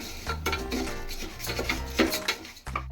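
Moong dal frying in ghee in a pan while a spoon stirs it, close scraping and rubbing strokes against the pan in an uneven rhythm, quiet with no voice.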